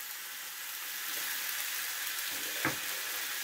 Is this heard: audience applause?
no